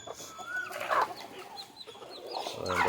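Native chickens cluck near a coop where chicks are kept, giving a lively mix of close, repeated clucks and squawks in quick succession.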